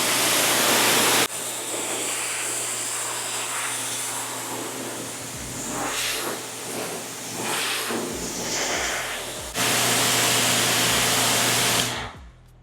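A steady, loud hiss of spraying water rinses foam off a car, with brief pauses and shifts in intensity before it cuts off at the end.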